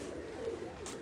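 Pigeons coo softly on a rooftop in Kotli Bazar, a brief faint murmur in the distance over a low hum.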